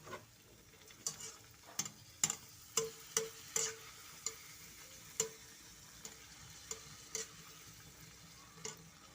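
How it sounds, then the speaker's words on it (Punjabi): Golgappa puris frying in hot oil give a soft, steady sizzle with sharp clicks and taps every half-second or so, fairly faint, no voices. "ਹੁਣ ਜਿਹੜੇ ਸਾਡੇ ਗੋਲ ਗੱਪੇ ਆ ਉਹ ਆਪਾਂ ਤੇਲ ਦੇ ਵਿੱਚ ਫਰਾਈ ਕਰਾਂਗੇ"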